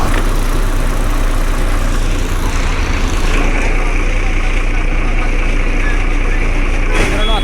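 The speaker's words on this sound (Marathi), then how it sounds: "आपण ज्या बसमधून प्रवास करत आहोत ही आहे बी एस फोरची टाटा अशोक लेलँडची बस आहे" From inside a Tata Ashok Leyland BS4 MSRTC bus on the Kolhapur to Ratnagiri route via Amba Ghat, a loud, steady diesel engine rumble drones throughout, with voices talking over it.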